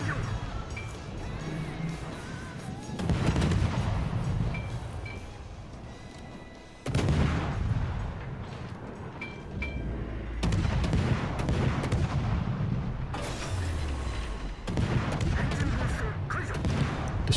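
Guns of the destroyer Akizuki fire in the naval game World of Warships, sharp loud salvos bursting repeatedly at irregular intervals over a constant low rumble of battle ambience.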